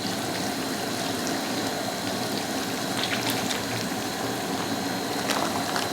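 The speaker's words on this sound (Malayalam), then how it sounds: "അങ്ങനെ നമ്മുടെ അച്ചാർ തിളക്കുന്നുണ്ട് നന്നായിട്ട്" A raisin pickle bubbles as it boils in a pan, making a steady close-up simmer with small popping bursts scattered through it, with no voices.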